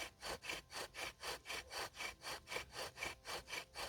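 A ceramic spindle is worked back and forth in a friction fire drill, giving a steady rhythmic rasping of about eight strokes per second, close and clear with no talk.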